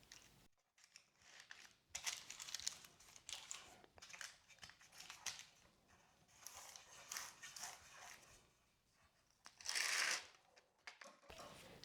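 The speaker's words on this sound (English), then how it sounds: "Cut the parchment using where we are holding the parchment as a guide." Parchment paper is handled and snipped with scissors to line the bottom of a round cake pan for a Christmas plum cake. Soft crinkles and cutting sounds come close but quiet, in uneven bursts.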